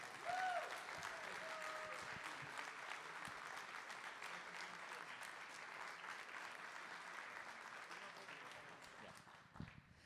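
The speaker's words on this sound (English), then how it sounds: "let's have one more round of applause for Ryan and River" An audience at a DeMolay International luncheon applauds in a sustained, even round of clapping from a roomful of people, with a voice briefly audible at the start and near the end.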